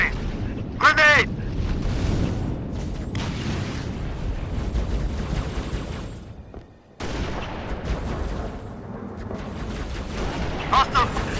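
Heavy gunfire and a grenade explosion in the Xbox 360 game Halo: Reach, played on Legendary, a loud, sustained barrage with a brief drop near the middle and voices shouting over it.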